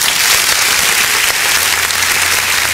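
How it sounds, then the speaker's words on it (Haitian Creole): A congregation applauding during a church service: loud, continuous, dense clapping from many people that fills the whole stretch without pause. "On applaudit."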